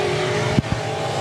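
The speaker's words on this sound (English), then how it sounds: "Steve Reynolds trying to keep that car straight as he slides through turns 1 and 2." Stock cars race around the oval at Raceway Park during a heat, a steady loud engine roar with a car sliding through the turns and two brief low thumps midway, no talk.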